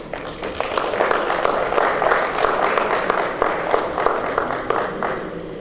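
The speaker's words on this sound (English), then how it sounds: "Would you give them a round of applause?" Audience applause at a tribute event honoring Odumegwu Ojukwu, a steady wash of clapping from a crowd that holds at an even level throughout, with scattered sharper claps standing out.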